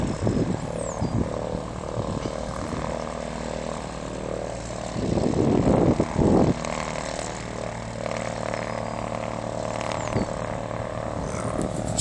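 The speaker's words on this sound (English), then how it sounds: "looks like we're going to see a plane take off," A steady droning propeller engine hums throughout as a propeller airplane takes off at Bowman Field, Kentucky, swelling louder for a moment midway, with no talking.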